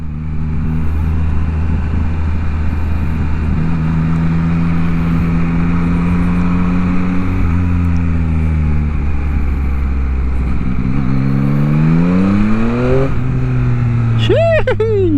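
A Yamaha MT-09 motorcycle with a stock exhaust idles with a loud, steady low drone, then revs near the end with its pitch climbing.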